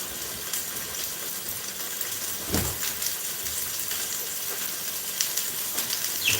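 Steak searing in a hot pan, a loud continuous hiss and sizzle filling the space, with a few brief pops and crackles, close and alone without talk.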